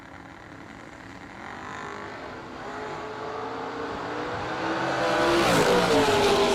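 Drag race cars, including a Roadster from Texas and a '71 Vega, launching at a Fall Fling bracket race, with a broad engine roar that builds steadily and swells loudest near the end, no talk over it.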